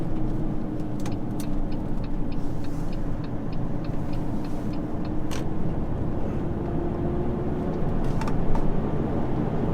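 A truck engine drones steadily from inside the cab while gears are shifted, with a constant low rumble and faint clicks and clunks from the gearbox, swelling slightly near the end.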